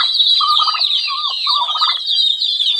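Chickens and a crowd of chicks on a small backyard farm, a dense, continuous chorus of high peeping close by, mixed with lower clucks and gobble-like calls.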